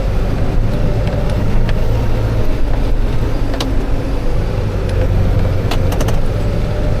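A New Holland T5.140 tractor engine running hard at high revs, a loud, steady, droning roar close by that holds throughout, with wind buffeting the microphone.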